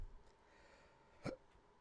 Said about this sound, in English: Oh, the hiccup.